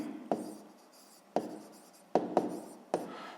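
A pen writes out a sixth-grade math solution on paper, giving five sharp taps as the tip meets the page, each followed by soft scratching strokes, close and quiet with no talk.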